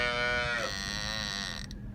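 A young calf at a dairy farm lets out one long, loud moo close by, lasting most of the two seconds and fading at the end.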